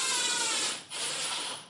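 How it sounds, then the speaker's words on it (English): A power drill driving screws while installing a Friedrich Chill Premier inverter air conditioner whirs steadily at close range for just over a second, briefly dips, then resumes its high mechanical buzz. "it goes a little quicker with the drill"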